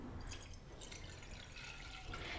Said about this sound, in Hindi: हमने यहाँ पर लिया है एक पतीला और इसमें मैं अब शामिल करूँगी 2 कप पानी